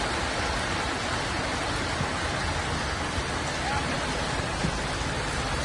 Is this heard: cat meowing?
no